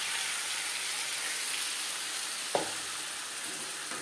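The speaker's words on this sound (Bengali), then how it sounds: "মুসুরির ডাল 2-3 মিনিট নাড়াচাড়া করে নেব" Grated radish with turmeric, salt and masoor dal is stir-fried in a pan, giving a soft, even sizzle and crackle with a single brief knock of the spoon partway through.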